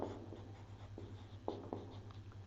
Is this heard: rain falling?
no